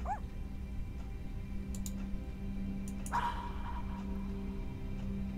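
A dog barks up a pipe in the video game Tales of Cosmos, a few short distant yips over a low humming background and faint game tones.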